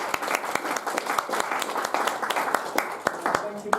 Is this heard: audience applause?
yes